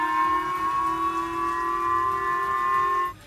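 A civil defense warning siren in Japan wails as a steady, sustained tone, loud and alone, holding for about three seconds before cutting off.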